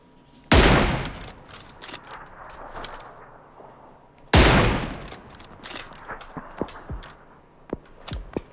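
Two sharp, loud gunshots in PUBG Lite, spaced about four seconds apart, each followed by a decaying rumble and scattered lighter clicks and distant pops.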